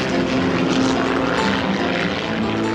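Helicopters fly overhead above fishing boats, producing a loud, continuous rotor and engine drone that stays steady and close throughout, with no voices.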